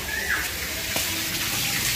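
Water gushes steadily from the outlet of a newly fitted Sarvo submersible pump, a close, continuous splashing rush with no talk over it.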